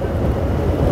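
Strong wind buffets an outdoor microphone during a bike race, a steady low roar with gusting rumble filling the whole moment, no voices over it.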